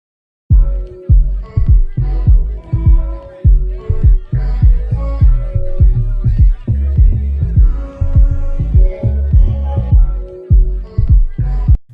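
A produced instrumental beat with a steady, punchy kick rhythm, deep bass and layered melodic parts washed in reverb, giving a roomy lounge-club feel; it plays loud and continuous with no voices.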